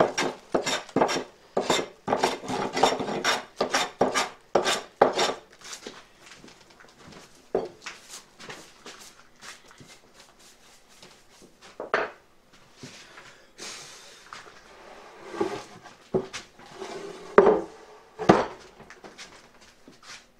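Hand plane taking strokes across a wide wooden board at a workbench, a series of sharp scraping swipes, dense and rhythmic at first, then sparser, close and fairly loud.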